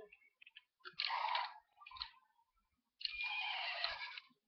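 A high, electronic-sounding whinny from a toy horse with a moving head and broken bridle plays twice, with small clicks and mechanical clatter around it, close by and fairly quiet.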